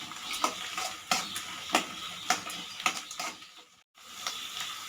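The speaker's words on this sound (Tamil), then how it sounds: "இது நல்லா வதங்கட்டுங்க." Green and red chillies sauté in a pan for lemon rice, with a steady sizzle broken by a series of sharp spoon scrapes and stirring clinks, close and moderately loud, and a brief drop to near silence near the end.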